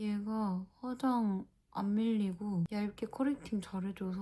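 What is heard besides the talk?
No everyday noises stand out.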